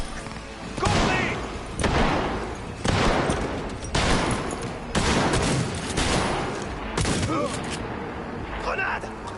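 Repeated bursts of heavy automatic gunfire in the video game Cyberpunk 2077, loud and dense, each volley lasting about a second with brief gaps between them, over a steady battle din.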